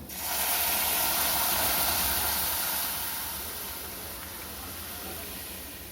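Boiled lentils tipped into a pan of fried onions for spinach dal, setting off a loud broad sizzling hiss that swells early and then settles to a steadier, slightly softer hiss, with no voices.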